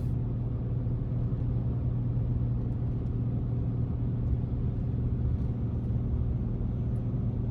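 An old Range Rover engine drones under heavy throttle up a long climb, a steady low rumble heard from inside the cabin. The sound stays loud and even throughout, with no talk.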